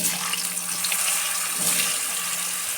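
Chopped vegetables, potatoes among them, drop into a hot pan for a quick, spice-free light curry and fry with a loud, continuous, even sizzle and hiss that stays steady throughout, with no talking.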